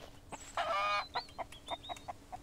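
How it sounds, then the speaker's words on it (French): Two hens clucking in the survival video game Mist Survival, a drawn-out squawk followed by a series of short, fairly close clucks at an irregular rhythm, with no talk. "Voilà, comme ça, j'ai les deux poules."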